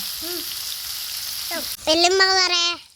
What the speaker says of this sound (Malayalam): നമ്മൾ മീൻ ഫ്രൈ ചെയ്യാൻ വേണ്ടി വെച്ചിട്ടുണ്ട്. നമ്മൾ ചട്ടിയിൽ ഇതാ കിടന്ന് നല്ല മുരിഞ്ഞ് വരുന്നുണ്ട് കേട്ടോ.